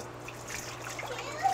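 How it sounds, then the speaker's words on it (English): Water poured out of a saltwater aquarium tank, a soft, steady trickle heard close by and fairly quiet, with a faint voice underneath. "I'll pour out a little bit of this water"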